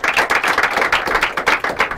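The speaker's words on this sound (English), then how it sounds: "let's applaud them" Audience at a secondary-school quiz and debate competition claps for a school, loud and close, with a lively uneven rhythm of overlapping hand claps throughout.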